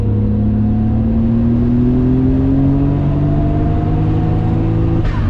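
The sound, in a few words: Nissan R32 GTR with HKS twin turbos pulling on the dyno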